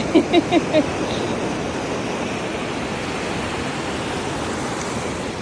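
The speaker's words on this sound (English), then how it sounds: "it's just nice to sit here and watch the waves" Ocean surf breaking on a beach during surf fishing for redtail surf perch, a steady broadband wash of waves with a few brief faint chirps near the start.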